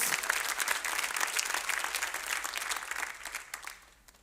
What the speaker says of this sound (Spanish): Dale una ofrenda de palmas a nuestro Dios.